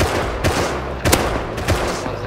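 Gunfire in the survival game Rust, several loud close shots cracking out at uneven intervals over a dense background rumble, with no talk.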